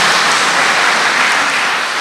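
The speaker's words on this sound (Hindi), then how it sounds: "हाँ भाई, सभी ने जोरदार तालियां बजाई।" Loud, dense applause from an audience at a spiritual gathering at Pandav Bhawan, Madhuban, a steady wash of many hands clapping together throughout, with no talk.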